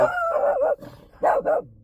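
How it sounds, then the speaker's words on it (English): A dog barks three times up close and loud, one drawn-out bark followed after a pause by two quick ones, with no other voices. "There's another dog."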